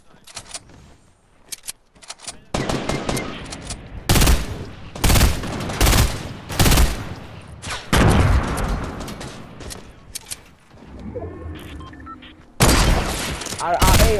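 Rapid bursts of gunfire from the video game Fortnite crackle loud and close in dense volleys, with brief pauses between, and a player talking at times over the shooting.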